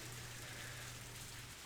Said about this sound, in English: The rain began to pick up.